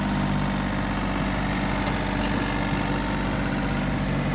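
A small tractor engine in good condition with low hours, idling close by, a steady low rumbling drone with constant vibration and no change in pitch.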